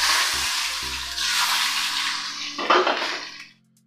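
Boiled potatoes tipped into hot oil already holding cumin seeds, whole garam masala and bay leaves, giving a loud, sustained sizzle with a brief clatter as they land, fading out near the end.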